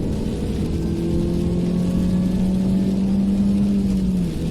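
A Mini Cooper S R53 on a test run holds a steady, loud engine drone from inside the cabin, with a rising whine climbing gradually as the car accelerates before the sound eases off at the end.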